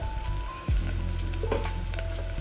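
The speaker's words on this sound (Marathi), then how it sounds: "आता आपल्याला मसाले घालायचे हळद घालूया" Turmeric tipped into a hot pan for a black-eyed pea curry, oil sizzling loudly and steadily throughout, with a brief stir near the start and no talking.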